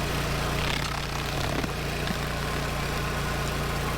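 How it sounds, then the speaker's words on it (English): A stump grinder chews through a semi-rotten, previously cut tree stump on a property, giving a steady, loud engine drone with a grinding roar that holds constant throughout, no voices present. "I used the stump grinder to remove a total of 15 similar stumps all over the property"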